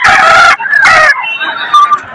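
A rooster crows loudly and close by at a live poultry bazaar at a village market, with two long, strong crows followed by softer clucking calls.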